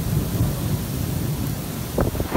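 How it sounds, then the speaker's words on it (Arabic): A thunderstorm with rain over Saudi Arabia rumbles low and steady, with a few sharper cracking bursts near the end, loud and close with wind noise and no voices. "هطول أمطار رعدية من خفيفة إلى متوسطة على مناطق المملكة"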